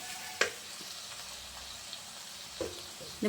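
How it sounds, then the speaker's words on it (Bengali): Spice paste of roasted cumin and coriander powder sautéing in a pan with a splash of water, a steady close sizzle broken by a few sharp scrapes of stirring. "মশলাগুলো আমি খুব ভালোভাবে কষতে থাকবো।"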